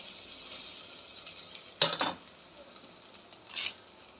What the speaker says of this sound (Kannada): ಒಗ್ಗರಣೆಗೆ ಒಂದು 2-3 ಸ್ಪೂನಷ್ಟು ಎಣ್ಣೆ ಹಾಕ್ಕೊಳ್ತೀನಿ.